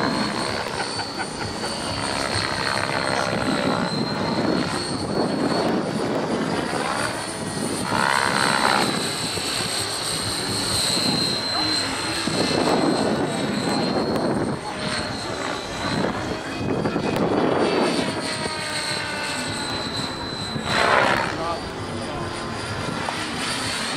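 Radio-controlled model helicopters fly over a runway in wind, rotors and engines whining continuously at a high pitch, swelling and fading as they pass nearby, with wind rumble underneath.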